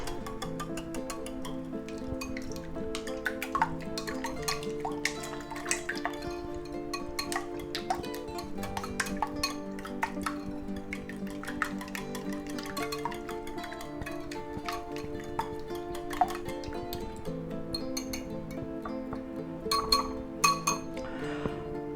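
Whisk or fork clinking rapidly against a bowl while beating an egg mixture with parsley flakes and paprika, a fast, steady rhythm of bright taps running continuously, close and alone.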